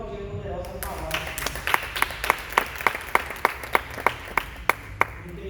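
A church congregation claps in a steady, rhythmic beat that starts moderately loud, with crisp individual claps recurring about every quarter second after some murmured voices at the start.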